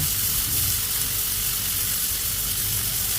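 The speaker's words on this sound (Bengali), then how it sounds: "তেল গরম হয়ে গেলে এখন পেঁয়াজ কুচি এবং কেটে রাখা বাকি বাকি মশলাগুলো দিয়ে দেব" Chopped onions and spices frying in hot oil in a wok, a loud, dense, continuous sizzle that holds steady throughout, close up with no voices.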